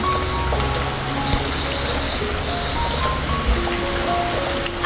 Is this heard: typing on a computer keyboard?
no